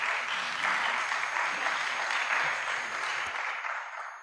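Lecture audience applause, a full, even round of clapping from many people that swells, holds, then tapers off quickly toward silence at the end.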